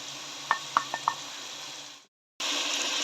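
Chicken frying in a pan with whole cumin gives off a steady, soft sizzle, broken by four quick taps of a utensil on the pan, then a brief drop to silence before the hiss returns.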